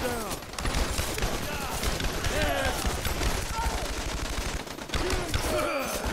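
Rapid bursts of gunfire from The Expendables 2 video game crackle steadily over a dense, busy battle mix, with a player's voice talking over the action.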